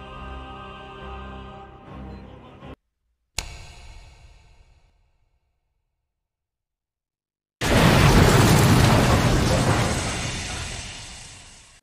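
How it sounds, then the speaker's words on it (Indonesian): A deep booming explosion bursts in loud and sudden, followed by a long roaring, crackling rumble that slowly fades, after earlier music cut off by silence. "ledakan yang terjadi barusan"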